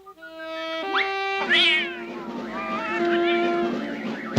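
Cartoon cat in the 1988 animated Garfield's 9 Lives, meowing up close: a long, drawn-out yowl with bending pitch, followed by softer, wavering mewing, loud and alone.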